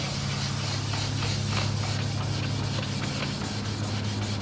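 Steady wet sanding of car paint with soapy water, a continuous close scrubbing hiss with faint rhythmic strokes over a low background hum.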